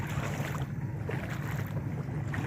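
Steady low rumble of a boat travelling on a flooded river, with wind buffeting the microphone, continuous and close, without any voices.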